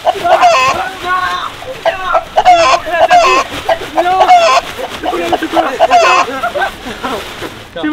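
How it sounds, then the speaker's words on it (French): A chicken clucks repeatedly during an Easter egg hunt, loud and close, with bursts of rapid clucking and squawks in an uneven rhythm, while voices chatter at moments between the calls. "Un poulet, j'ai un poulet."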